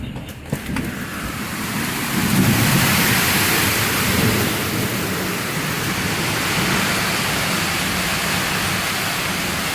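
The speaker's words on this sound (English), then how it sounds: "And it is pouring." Heavy rain pours down in a steady, dense roar close by, a thunderous rumble swelling under it early on, continuing unbroken and loud throughout.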